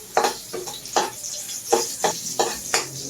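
Chopped onion sautéing in hot cooking oil in a pan while mung beans with octopus are prepared, a steady soft sizzle broken by regular scraping stirs about every half second, close up with no talk.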